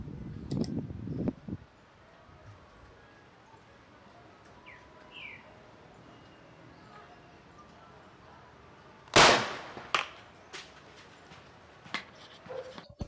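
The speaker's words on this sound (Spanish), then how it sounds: "Entonces a continuación vamos a ver cómo explota la botella." A bottle of alcohol packed with crushed Clorox tablets bursts in one sharp, loud explosive bang, followed by a few quieter pops and cracks. Faint chirping and background noise come before the blast.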